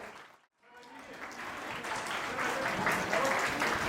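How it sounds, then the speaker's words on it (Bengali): A crowd breaks into applause after a brief pause, the clapping swelling and holding steady, dense and fairly loud. "ওদের এই অসাধারণ স্বপ্নের জন্য একবার জোরে হাততালি হয়ে যায়।"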